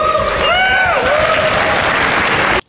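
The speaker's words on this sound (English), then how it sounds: "And yet people are cheering because he did it with his hands." A large audience at a Peter Molyneux game presentation breaks into dense, sustained applause with whoops and whistles, then cuts off abruptly at the end.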